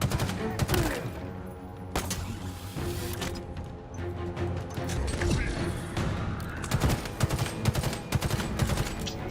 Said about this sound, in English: Wow, stuff is still exploding.